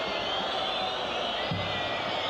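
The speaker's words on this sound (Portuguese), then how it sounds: "torcedor paraibano jogando junto com o Flamengo, vaiando a posse de bola do Bahia" A large football crowd at a 2001 Flamengo–Bahia match in the Copa dos Campeões, a continuous loud roar of voices filling the stadium under a commentator's talk.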